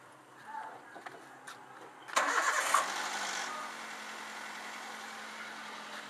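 A Toyota Avanza fitted with an HHO setup cranks briefly and catches, then settles into a steady, fairly faint idle, heard from close by with a few light knocks beforehand.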